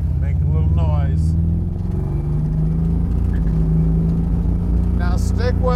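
A yellow classic Chevrolet Chevelle's engine idles with a loud, steady rumble close by, then revs up sharply a few times near the end.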